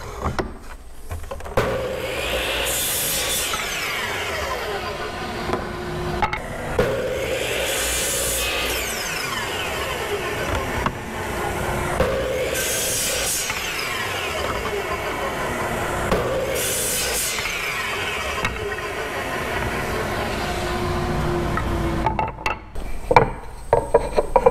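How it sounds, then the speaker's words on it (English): A miter saw cuts oak slats for rocking horse bow rockers in a workshop, with several repeated cutting passes about every four seconds over a steady background hum. "I've set my stop over at my miter saw and my station, so I'm ready to go ahead and start cutting these slats"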